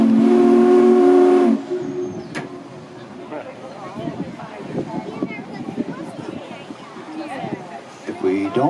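A loud, steady boat whistle blast from the Minne-ha-ha steamboat in the Adirondacks, with rich harmonics, sounds for about a second and a half, then gives way to a busy mix of background noise and distant voices.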